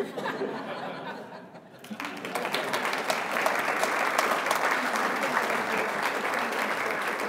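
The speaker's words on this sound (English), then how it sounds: "So you can feel free to applaud for up to 30 seconds." Audience applause at a Fort Hays State University ceremony honoring Dr. Jesse Shaver, starting after a brief voice and swelling into steady, sustained clapping from a large crowd with some laughter mixed in.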